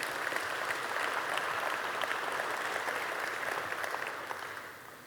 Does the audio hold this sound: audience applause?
yes